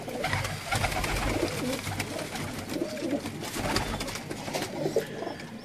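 Several pigeons coo in soft, throaty murmurs nearby, overlapping irregularly against a background of rustling and flutter.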